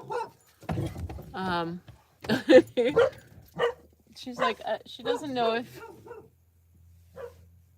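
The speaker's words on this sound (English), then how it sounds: "She's not sure who she's barking at." A dog barks a few times close by, mixed in with someone talking over it.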